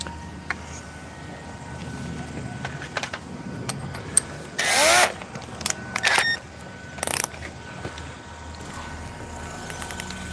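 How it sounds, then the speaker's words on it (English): A cordless electric drill works on an electric bike upgrade, a few short loud bursts of whirring under ambient workshop noise with scattered clicks and handling sounds between them. "I need the drill again"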